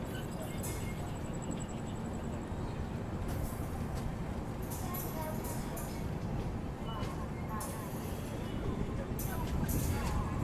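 Inside the Paschim Express passenger train as it pulls away from Meghnagar station: a dense, continuous rumble and rattle of the carriage, with scattered metallic clanks and squeaks and faint voices in the background.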